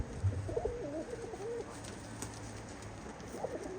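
Pigeons cooing nearby, soft throaty rolling coos in a few short phrases over a quiet, faintly hissing background.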